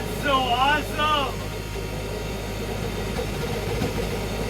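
A Tesla turbine jet engine with a propane burner combustion system runs with a steady, loud roar and rumble; a voice speaks briefly over it at the start.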